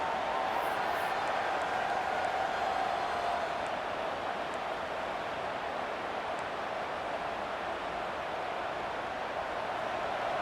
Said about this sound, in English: And the crowd coming to life here, trying to help this defense down in the red zone.